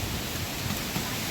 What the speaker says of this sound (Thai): ฝนลมมาแล้วมืดฝนมาแล้ว